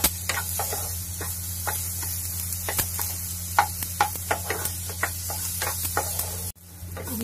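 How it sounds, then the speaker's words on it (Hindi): Scooped-out vegetable pulp frying in a little oil in a home kitchen, a steady close sizzle with scattered crackles and occasional stirring scrapes, then cut off abruptly near the end. "अब इसको थोड़ा सा भून के निकालेंगे इसको। इसमें थोड़ा तेल डाल दिए हैं"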